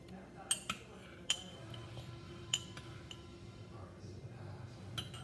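A spoon clinks against a glass while stirring a thick drink of ranch, milk, chocolate syrup, yogurt and coffee creamer, with a few sharp taps spread over low background noise.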